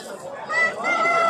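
A large rooster of about five kilograms crows at a busy livestock market in Asaka, Andijan, a loud, close, drawn-out call that rises and holds over faint background crowd noise.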